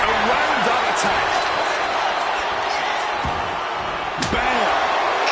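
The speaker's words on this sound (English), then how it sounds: "that disturbing sound of the kendo snapping on flesh." A kendo stick slams into a wrestler in the WWE 2K26 wrestling game, landing as a sharp crack over steady crowd roar and running play-by-play commentary.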